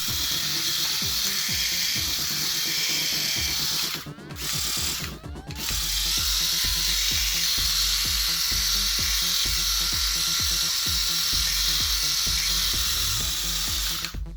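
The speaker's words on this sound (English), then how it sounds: "Let's try starting the razor without one blade." A Philips Series 5000 electric razor with one blade removed runs with a rapid, rattling, ratchet-like buzz, close and continuous, cut by two brief pauses near the middle.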